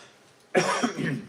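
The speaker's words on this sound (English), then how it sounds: "Oh dear, I've got a nice niggly little cough." A single close cough bursts out after a short quiet lead-in, followed by a rough, raspy tail.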